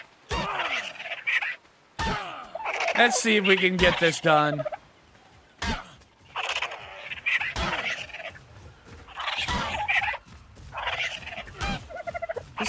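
A dodo squawks and gobbles in the survival game Ark, in repeated loud bursts separated by sharp thunks and gaps, with a voice speaking briefly among the calls.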